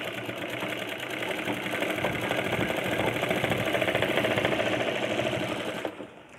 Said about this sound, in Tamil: இப்படியே கண்டினியூ நல்லா ஃபாஸ்ட்டாக தைக்கும் போது செஞ்சு கற்றுக்கலாம்